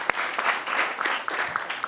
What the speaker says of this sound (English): Energy and environment, a round of applause for Bernard, carrying the burden by himself.